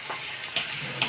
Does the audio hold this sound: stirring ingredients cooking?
yes